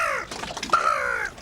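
A man imitates a seagull call with his voice, a single close, loud, raspy cry that rises and then stretches into a long wavering squawk.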